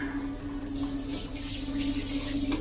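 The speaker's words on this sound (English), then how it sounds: "So just quickly give it a good hose like that." Steady rush of a hot water hose rinsing salt off fishing rods and reels, a continuous close spray and splash with a low constant hum underneath, no talk.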